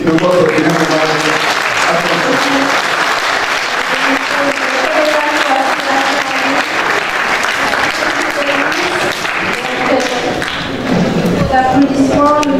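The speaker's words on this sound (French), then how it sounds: "Applaudissements." Loud audience applause following a minister's speech at an African cashew industry conference in Dakar, dense clapping with occasional thumps lasting over twelve seconds, with voices talking and calling out beneath it.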